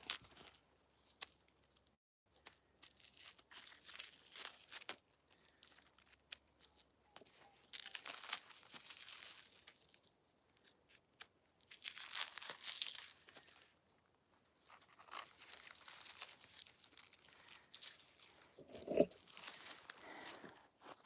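Outer leaves peeled and torn off a frozen leek, giving a long run of soft crinkling, crackling and tearing at close range with one sharper snap near the end.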